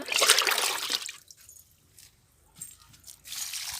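Sour buttermilk is poured around the base of a potted plant, giving two short splashing gushes of liquid with a quieter gap and faint drips between them. No one speaks.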